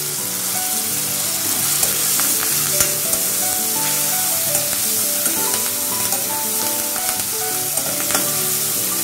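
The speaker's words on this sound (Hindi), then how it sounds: "हल्दी का स्मेल जाने तक हल्का सा फ्राई करें" Tomatoes, curry leaves and turmeric fry in a pan, a continuous close sizzle with frequent stirring scrapes and small clinks throughout, no talking.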